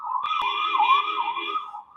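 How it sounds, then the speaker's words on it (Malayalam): An ambulance siren wails in a steady, wavering tone for about two seconds, fairly loud and close, with no one speaking over it. "ആംബുലൻസ്"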